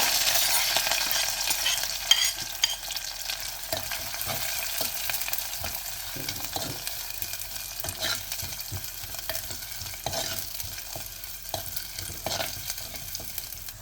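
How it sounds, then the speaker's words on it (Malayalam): Onion, garlic, ginger and curry leaves sautéing in oil in a pan, with a steady close sizzle and frequent scraping stir strokes throughout, no voice. "ചട്ടിക്കകത്ത് എണ്ണ ഒഴിച്ചിട്ടുണ്ട് കടുകൊന്നും നമ്മൾ അതിലേക്ക് ഉള്ളി വെളുത്തുള്ളി ഇഞ്ചി കരിയാപ്പില ഇട്ട് ഒന്ന് വഴറ്റുക"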